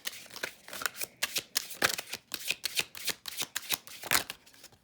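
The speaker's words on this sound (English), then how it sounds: "Let's go ahead and pull 3 of our business cards to see what we get for Pisces." Cards from a Bright Ideas idea deck are shuffled and drawn in a quick run of crisp riffling flicks and slaps, close and fairly loud, with no voices.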